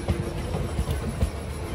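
Aurangabad Express passenger train made up of ICF coaches, a low steady rumble of moving cars with faint rhythmic wheel clatter, heard at a moderate distance with no voices.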